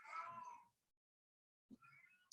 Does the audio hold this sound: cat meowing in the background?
yes